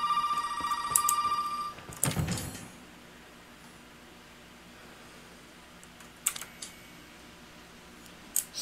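A telephone rings inside the horror game Resident Evil 7, a steady electronic tone lasting under two seconds before it cuts off abruptly, leaving near-silence broken by a few faint clicks and knocks.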